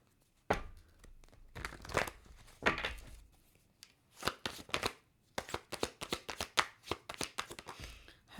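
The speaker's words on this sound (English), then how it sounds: "One more shuffle." Tarot cards being shuffled in repeated bursts of quick riffling and slapping, close up, with short pauses between shuffles and no talking.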